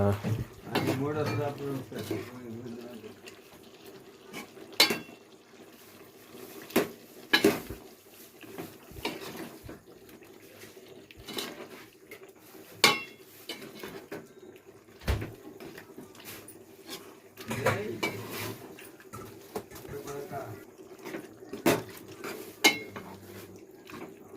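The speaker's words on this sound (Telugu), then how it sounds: "ఇప్పుడు కూర బాగా కలపాలి" Chicken curry being stirred in a cooking pot, with the spoon knocking and scraping against the metal in irregular clinks spread across the clip, under a steady background of talk.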